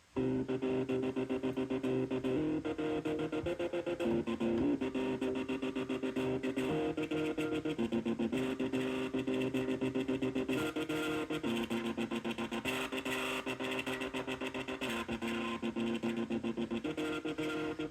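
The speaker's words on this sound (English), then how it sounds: "we're basically making a polyphonic oscillator and then passing it through the entire chain of the 303" A distorted, buzzy polyphonic synth played from an Arturia KeyStep through a TD-3 303-style filter chain plays chords steadily and loudly, its filtered tone shifting between sustained notes with no pauses.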